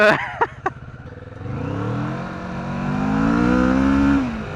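A car engine revs up in a long rising climb and holds at high pitch before dropping off, following a couple of quick throttle blips, as the wheels spin on a slippery surface.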